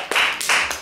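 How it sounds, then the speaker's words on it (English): A congregation claps hands together during a lively church worship service, with three bursts of applause in quick succession, loud and close with no talking. "Clap your hands and give God glory."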